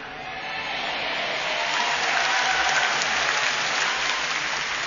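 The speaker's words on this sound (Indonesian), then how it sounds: "Jadi kalau mau tepuk tangan boleh, asal tepat waktunya." An Easter church congregation breaks into applause during a sermon, a broad wash of clapping that swells and holds steady, fairly loud and without talk.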